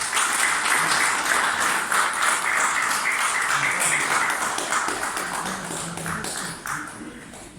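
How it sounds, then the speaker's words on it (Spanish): An indoor audience at a book presentation and theatrical performance claps loudly and steadily for several seconds, a dense wash of many hands that tapers off slightly toward the end. "Fuertes palmas para él."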